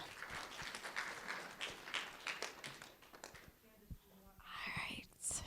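Faint scattered clapping from a small audience at a self-determination conference session, fading after a few seconds into quiet room noise.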